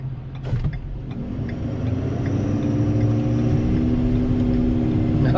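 A 2019 Ford F-750 dump truck engine pulls hard in first gear, a loud, steady low rumble with rising harmonics that builds and holds close by without any talk.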